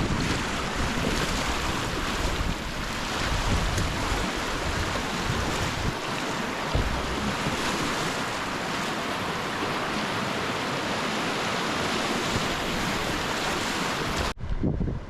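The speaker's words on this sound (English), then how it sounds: "Wave right here in front of me might go catch that." Whitewater river rushing around a kayak in rocky rapids, a steady loud broadband roar of churning water with wind buffeting the microphone, continuous throughout before cutting off abruptly near the end.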